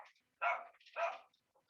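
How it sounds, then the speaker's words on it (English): Dogs bark twice in quick succession somewhere in the background, two short clear woofs separated by a brief pause with faint yips after. "sorry if you hear the dogs barking on my background"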